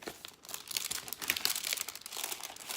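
Stiff paper card envelope being opened by hand, with crisp crinkling and tearing rustles close up, steady and fairly quiet.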